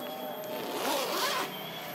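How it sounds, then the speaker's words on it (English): An F-Stop Dalston camera bag's zipper is pulled in one smooth, close rasping run lasting under two seconds, with no talking. "I love the zipper, it never gets stuck"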